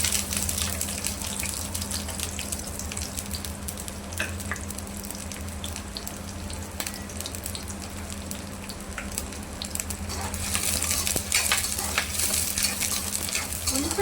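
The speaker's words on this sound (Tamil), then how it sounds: "எண்ணெய் சூடானதுக்கப்புறமா வெங்காயம் போட்டுக்கலாம்" Onions fry in hot oil in a pan for tomato thokku, a steady crackling sizzle that swells louder near the end, with stirring scrapes mixed in and no voices.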